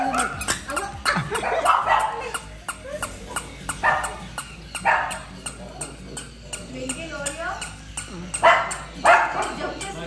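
Pet dogs Oreo and Twinkle yap and bark repeatedly in short bursts at a newly arrived puppy, fairly close, with children's voices talking over them indoors.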